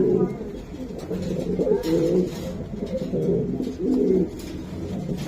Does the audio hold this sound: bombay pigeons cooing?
yes